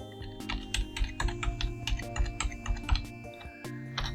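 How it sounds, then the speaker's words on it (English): Rapid keystrokes on a computer keyboard as a web address is entered into an EA9 HMI panel's login page, an uneven run of crisp, close clicks and taps filling the whole stretch with no voice over it. "So we type in the address of our"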